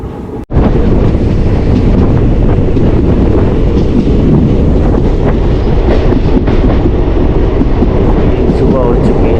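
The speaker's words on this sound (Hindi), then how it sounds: "तो अभी हमारी ट्रेन निकल चुकी है चोरू।" A Delhi–Bikaner superfast express passenger train rolls on after leaving Churu station on a cold morning, a loud steady rumble with clattering wheels and wind buffeting the microphone, close and continuous throughout.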